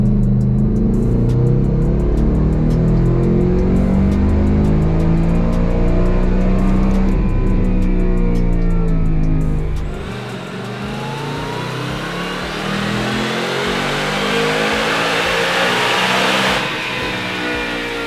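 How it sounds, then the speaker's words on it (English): A VMP Loki Level 1 supercharged car engine on a dyno roars loud and close through a sustained pull, its pitch climbing before easing off, then settling into a lower rumble that swells again. "Okay, so we just got our first dyno pull"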